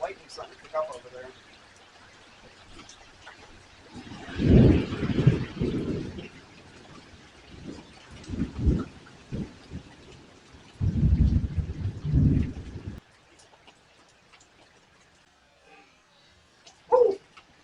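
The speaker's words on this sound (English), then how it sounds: "Definitely hear the lightning starting to pick up over there." Thunder rolling during a coastal Florida summer thunderstorm, several deep rumbles at moderate distance rising and fading, with a quiet stretch and a brief sharp sound near the end.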